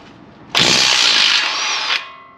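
A power tool with a 19mm socket spins off a rusted castle nut on a Toyota Tacoma tie rod, one loud continuous whirring burst of about one and a half seconds between quiet moments.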